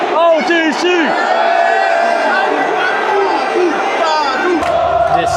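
A hyped crowd at a concert in Turin, Italy, cheers and chants in a loud, continuous roar, with voices rising and falling in rhythmic shouts and close-up yelling throughout.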